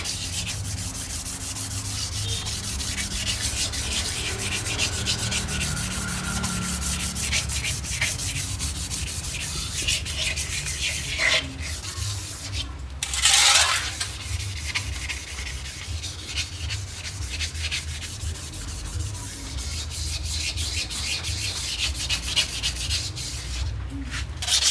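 A Panther diesel engine block, with a history of overheating, is scrubbed in circles with diesel fuel to strip off scale, a steady close rasping rub that continues with brief pauses and a louder scrape midway.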